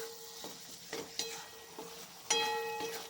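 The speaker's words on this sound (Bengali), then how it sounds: "চিংড়ি মাছটাকে দিয়ে আরও ভালো করে কষিয়ে নেব লাউয়ের সাথে।" Prawns and bottle gourd sizzle and fry in a pan, with a spatula stirring in short scrapes at a steady pace. A sharper clatter and brighter hiss near the end mark a fresh stir of the mix.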